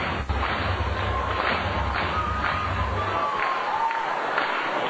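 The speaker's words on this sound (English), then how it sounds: "Crowd on their feet." Baseball crowd at a minor-league game between the Kane County Cougars and Cedar Rapids Kernels, on its feet with a steady roar of cheering and shouting that drops away near the end.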